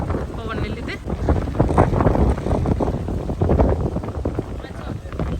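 Strong gusty wind buffets the microphone outdoors in an orchard during a jamun fruit harvest, a loud, continuous low roar with surging gusts throughout.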